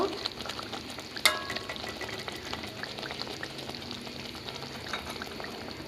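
Pangas fish curry cooking in a pan as cumin powder is stirred in, a low bubbling sizzle with light stirring scrapes and one sharp clink of a utensil against the pan, no voices.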